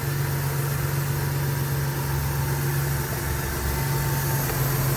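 A 2018 Ford Transit 350 van engine idles steadily after a water pump replacement, a smooth continuous low hum with a constant drone and no breaks, loud and close throughout.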